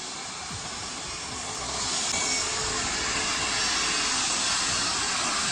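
An airplane at Coimbatore airport, its jet engines producing a steady, loud, broadband roar that swells over the first couple of seconds and then holds full and close, with no voices.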